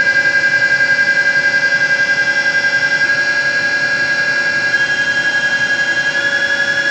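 Gerber Sabre 408 CNC router spindle running at 7,000 RPM, a loud steady high-pitched whine with sharp tonal overtones and a faint pulsing beat, continuous and close with no talk.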